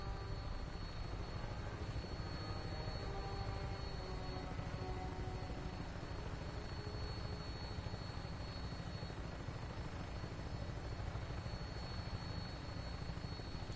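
A vertibird aircraft lifting off in Fallout 4, a steady loud helicopter-like rotor drone with engine hum that stays constant and unbroken, no voices over it.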